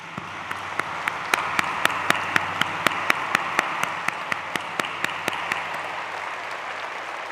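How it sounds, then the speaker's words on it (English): An audience at an urban forum closing ceremony gives warm applause, a broad steady wash of clapping with one clear, regular clapper standing out above the crowd. "please join me in giving them warm applause"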